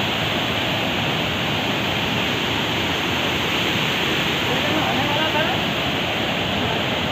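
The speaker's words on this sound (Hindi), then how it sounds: "यहाँ पे इतना ज़्यादा पानी का फ्लो है ना, इतना ज़्यादा आवाज़ करा" The Usri (Usari) waterfall near Parasnath gives off a loud, unbroken roar of heavily flowing water. The steady, dense rush fills the whole stretch from close by and never lets up.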